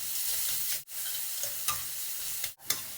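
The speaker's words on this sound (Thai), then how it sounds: "กระเทียมเจียวหอมดีแล้วก็ใส่หมูสับ ผัดรวนหมูสับจนสุกครับ" Minced pork stir-fries in a wok after garlic is fried in lard, a steady close sizzle with brief scraping stirs and a couple of short dips in the crackle.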